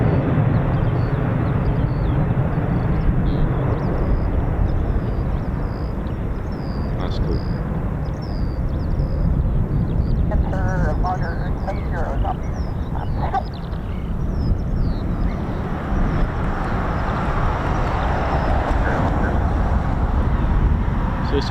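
A KC-135 Stratotanker flying at a military air display, a heavy, continuous jet roar with wind buffeting across the whole stretch, with a few faint bird chirps above it.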